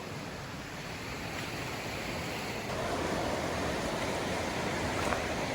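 Forney Creek in the Great Smoky Mountains in winter, a steady broadband rush of flowing water close by, continuous and fairly loud with no speech.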